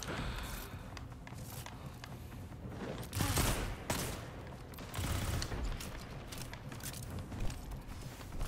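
Gunfire from a golden gun in a video game, a string of fairly faint shots with a few heavier bursts among them, under a busy game background.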